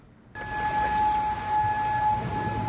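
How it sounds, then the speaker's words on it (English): Air raid sirens in Kuwait start abruptly and hold a steady tonal wail over a low background rumble, continuing for a couple of seconds. "In Kuwait, air raid sirens were wailing this morning as explosions rang out."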